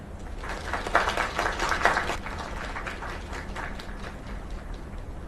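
Crowd applause in the video game Lake, a dense patter of clapping that swells in the first two seconds and then settles into a softer, steady ovation.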